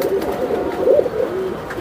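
A Naptha pigeon coos close by in a low, throaty warble, with a slightly louder rolling burst near the middle and soft continuous murmuring throughout.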